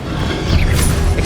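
Expelliarmus disarming spell cast in the Hogwarts Legacy video game during the Pensieve Guardian boss fight in Rackham's Trial: a loud crashing impact with a whooshing magical burst, close and forceful.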